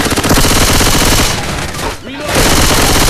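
Rapid automatic gunfire in the Left 4 Dead zombie shooter, loud and dense bursts nearly nonstop with a brief pause, a voice speaking over the shooting.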